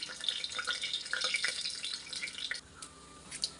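Cinnamon, fennel and urad dal crackle as they fry in oil, a soft busy sizzle with scattered pops that thins out near the end, fairly quiet and close.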